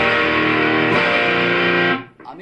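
An electric guitar runs through a Tony Bonni tube overdrive pedal on its drive 1 channel. One loud, thick, distorted chord rings out sustained for about two seconds, then is cut off and followed by a brief scratchy string noise.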